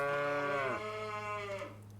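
Cattle in a cow barn in a farming video game, a pair of drawn-out moos with falling pitch over a low steady hum, close and clear.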